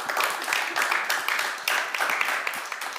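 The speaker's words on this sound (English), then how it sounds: "A round of applause for our panelists." Audience applauds panelists at a COP28 panel session on women entrepreneurs and climate solutions, a steady dense wash of many hands clapping throughout, fairly loud and close, with a faint voice under it.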